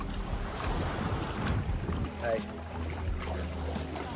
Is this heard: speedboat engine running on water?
yes